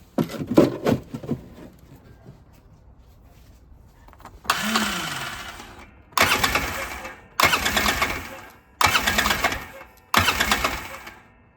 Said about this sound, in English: Trying to crank it, I gotta press the brake.